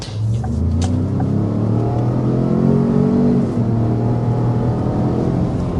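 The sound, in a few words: 2025 Ford Expedition / Lincoln Navigator accelerating to 60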